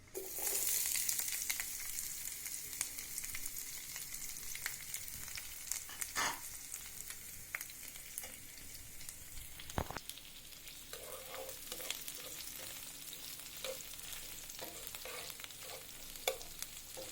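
Chopped onion, garlic and green chillies sizzle in hot oil in a home kitchen, a steady close frying hiss broken by occasional stirring scrapes and clicks.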